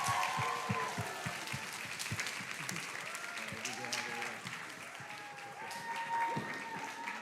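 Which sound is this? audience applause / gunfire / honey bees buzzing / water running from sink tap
audience applause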